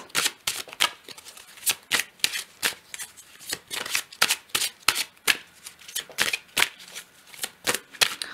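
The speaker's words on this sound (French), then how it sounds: "Je vais prendre une autre carte." Tarot cards are shuffled and handled close up, giving a rapid series of crisp riffling and flicking bursts in an irregular rhythm, with no speech.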